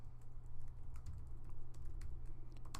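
Keys clattering on a computer keyboard as programming code is typed, an irregular run of soft clicks over a steady low hum, close and faint, with no speech.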